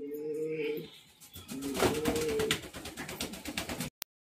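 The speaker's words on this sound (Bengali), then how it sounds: "এই যে একটা পায়রা, এই যে ফুলশিরা, ফুলশিরা চিনি পায়রা বলে" Allahabadi pigeon of the Fulshira (chini) type cooing up close, with two low, throaty coo phrases separated by a short pause and light rustling noise behind.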